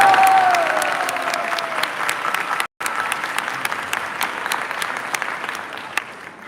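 Audience applause at a spiritual gathering, a steady wash of many hands clapping that holds strong for several seconds, cuts out briefly, then resumes and slowly thins.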